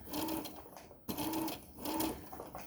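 A sewing machine stitches through four thick layers of tote bag fabric in two bursts of rapid, close whirring with a brief pause between them.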